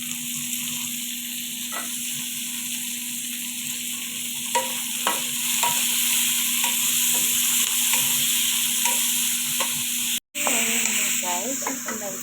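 Vegetables with tomato sautéing in a pan for opo squash with tuna, a steady sizzle throughout with occasional stirring scrapes and a brief cut near the end.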